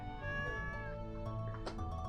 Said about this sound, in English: Well, little Garden, you be a good kitty now, okay?